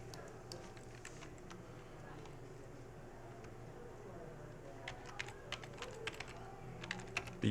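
Quiet clicks of typing on a computer keyboard, sparse at first and then a quick burst of keystrokes near the end, faint over a steady room hum.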